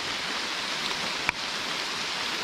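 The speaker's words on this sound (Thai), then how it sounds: "ฝนตกฝนตกพี่น้อง" Rain falls at night during a mushroom-hunting outing, a soft, steady hiss with one brief sharp tap partway through.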